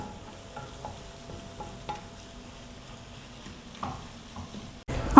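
Tomato masala for fish biryani being sautéed in a pan, with soft, steady stirring scrapes and a low sizzle throughout, a few light utensil clinks, then a louder clatter at the very end.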